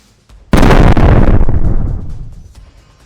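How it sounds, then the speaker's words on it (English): A drone strike on a building near the Murom Reservoir sets off one heavy, loud blast that starts abruptly, then rolls and rumbles away over about two seconds before fading to quiet. "Multiple strikes were subsequently launched on the building, destroying it."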